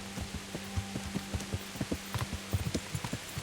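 Horse hooves clip-clop in an uneven trotting rhythm over a steady background hiss, fairly close and moderately loud, in the video game Kingdom Come: Deliverance.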